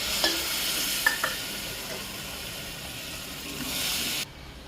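Boiled dal tipped into cooked masala sizzles and hisses steadily in the pan with faint clinks of stirring, the frying noise cutting off abruptly near the end.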